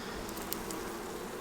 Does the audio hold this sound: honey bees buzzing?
yes